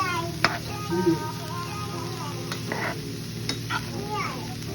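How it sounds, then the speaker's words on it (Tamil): Cauliflower coated in masala being stirred in a frying pan for cauliflower gravy, a continuous soft sizzle with intermittent scraping of the spoon, near and steady. "நம்ம ஆட் பண்ணியிருக்க மசாலாஸ் எல்லாமே எல்லா காலிஃப்ளவர்லையும் நல்லா கோட் ஆகுற மாதிரி ஒரு குயிக் மிக்ஸ் கொடுத்துக்கலாம்"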